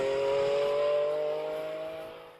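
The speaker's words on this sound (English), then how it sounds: "the sound of a 12-cylinder engine echoing through the Italian countryside" A Ferrari 12-cylinder engine revs with a steady high-pitched howl that holds, then fades away over a couple of seconds, with no other sounds alongside.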